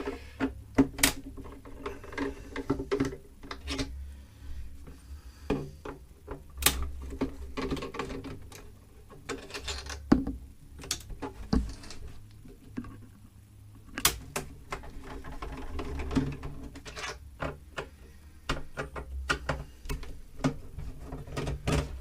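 A Phillips screwdriver backs screws out of a PlayStation 2 SCPH-50001 console, giving faint, irregular clicks and ticks scattered over a quiet background, close up and alone.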